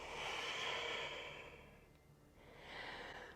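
A long, soft breath exhaled during a yoga stretch, a broad airy hiss that swells, fades, then rises again in a second gentle outbreath, close and quiet with no talking.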